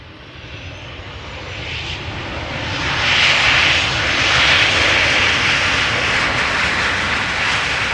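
An aircraft arriving on the Polderbaan runway 18R at Amsterdam Schiphol gives a broad, steady engine roar that swells and holds loud over several seconds, with no voices.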